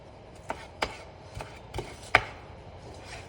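A knife slices shallots into rings on a cutting board, five or six crisp, evenly spaced chops, close and clear against quiet surroundings.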